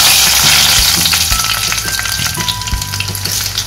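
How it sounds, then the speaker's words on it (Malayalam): Mustard seeds and dried red chillies crackle and sizzle loudly in hot oil for a Kerala-style green peas curry, with a dense steady hiss and sharp popping throughout, close and without talk. "നമുക്ക് കടുകിട്ട് കൊടുക്കാം. വറ്റൽമുളക് ഇട്ട് കൊടുക്കാം."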